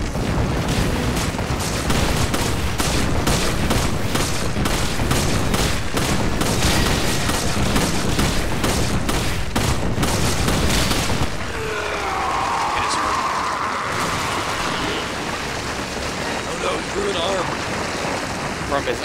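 Rapid gunfire from Resident Evil 5 pounds in repeated sharp bursts for about eleven seconds, loud and close, then gives way to a softer rumbling ambience with a voice heard.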